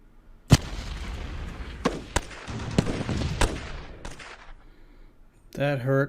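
Artillery fire from the Blitzkrieg-era wargame Decisive Campaigns: a sharp blast, then scattered bursts and booms over a rolling rumble that fades out, followed by a short voiced tone at the end.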